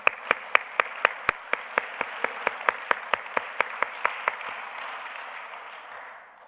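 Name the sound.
applause in church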